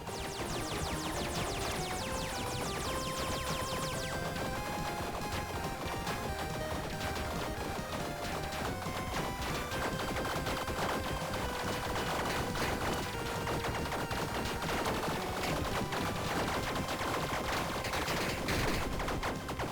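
Bomb explosions and dense combat effects in the video game Tiny Rogues, a loud continuous barrage of crashing, popping blasts and rapid gunfire-like hits, with no pauses.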